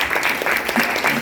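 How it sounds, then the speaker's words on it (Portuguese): Church congregation applauding during a Portuguese-language worship service, a steady wash of many hands clapping at close range, evenly sustained through the moment with faint voices mixed in. "Aplauda o Senhor."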